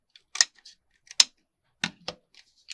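A few sharp, close scissor snips cut through paper in quick, uneven bursts separated by short silences.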